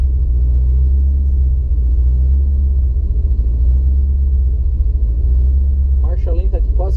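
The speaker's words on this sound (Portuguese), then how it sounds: "Marcha lenta alterando entre 650 a 1000 RPM" A supercharged 318 engine in a Dodge Dart idles with a loud, close, lumpy rumble that rises and falls steadily, and a voice speaks briefly over it near the end.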